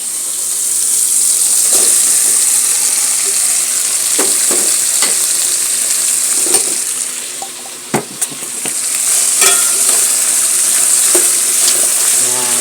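Squash sizzles steadily in a hot pan while a utensil scrapes and stirs it in repeated bursts, with a short dip in the sizzle partway through.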